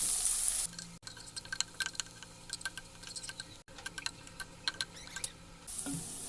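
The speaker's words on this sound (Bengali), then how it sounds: "পেঁয়াজ কুচি, রসুন কুচি, কাঁচামরিচ কুচি। এখন এগুলো ভেজে নিচ্ছি।" Chopped onion, garlic and green chili fry quietly in oil for red spinach, with a soft sizzle under sharp intermittent clicks and scrapes from a stirring utensil against the pan.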